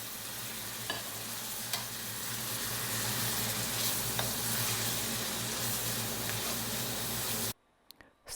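Pig stomach and celery stems stir-fry in a wok with a steady, bright sizzle and occasional spatula scrapes. It runs for several seconds, then cuts to near silence.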